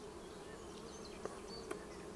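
Honeybee colony buzzing softly around the queen at a hive, a steady faint drone with a couple of brief louder passes close by.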